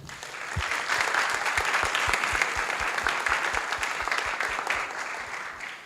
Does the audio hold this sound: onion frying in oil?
no